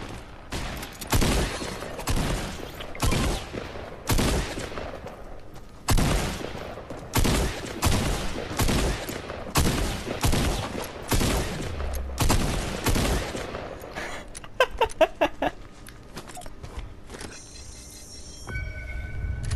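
Video game gunfire comes as a long series of loud, rapid bursts in quick succession, ending in sharper isolated shots and a fainter stretch of firing.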